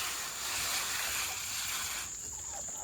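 Spray of water rinses ants off an air layering wrapped on a tree branch, a steady close hiss that eases off toward the end, with no talk.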